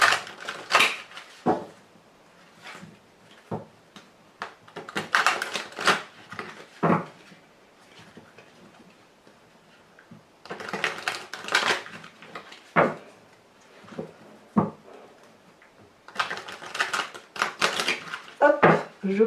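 A tarot deck is shuffled and cut by hand, producing close, crisp bursts of riffling and clacking card noise in several separate clusters, with short quiet gaps in between.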